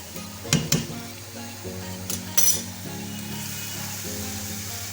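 Onions fry and brown in a pot for beef paye, a steady close sizzle with a couple of sharp clinks from stirring early on.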